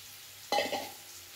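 Water poured into a hot pan of cooking suran (elephant foot yam) curry, giving one sudden sharp sizzle that hisses briefly and then fades, fairly quiet and close, with no talk.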